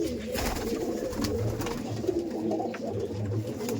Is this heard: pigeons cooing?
yes